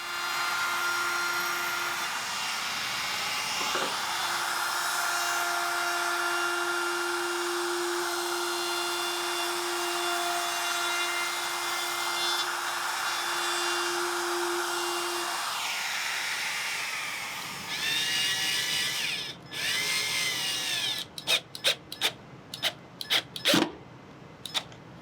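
A power screwdriver drives screws into wooden Kubb pieces, the motor whining in long steady runs that rise and fade, followed by a few short clicks and bursts near the end, with no talking.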